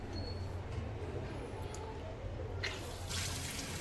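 Water runs softly from a three-colour LED faucet tap with a temperature sensor, a low hiss that brightens and grows a little fuller partway through, heard close with no talking.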